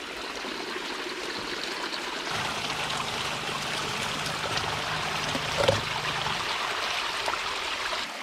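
Stream water trickles and splashes steadily from a pool held back by a small rock dam at a water intake, a close, continuous rushing wash with no voices.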